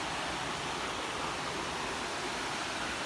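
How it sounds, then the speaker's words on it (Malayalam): A waterfall sends out a constant even hiss of rushing water, soft and distant, unchanging across a few seconds with no voices. "ആ വെള്ളച്ചാട്ടം ഇങ്ങനെ ഇവിടെ വരുന്നുണ്ട്."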